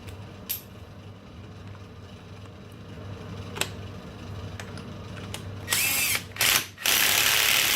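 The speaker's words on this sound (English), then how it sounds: "Axle nut back on there with a 30mm socket." A ratchet wrench with a 30mm socket tightens the axle nut on a Polaris RZR 570 S in a garage, giving bursts of close, loud clicking toward the end after sparse faint clicks and tool handling.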